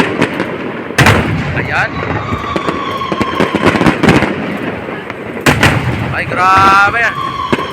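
Fireworks explode over the Esplanade along the Pasig River at an inauguration, several sharp loud bangs and crackles spaced apart amid crowd noise, with people exclaiming in between.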